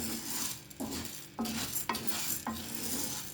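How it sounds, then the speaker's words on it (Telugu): A spoon stirs urad dal frying in a pan, giving a soft sizzle with repeated scraping strokes and a few light clinks against the metal, close up with no voices. "బాగా వేగాలి, కదుపుకుంటూ వేగించుకోవాలి."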